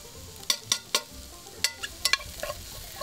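Garlic and vegetables sizzle and get stirred in a GSI aluminum Dutch oven while cooking chili, with a soft frying hiss under sharp, scattered scraping clicks from the utensil, close and fairly quiet, no talking.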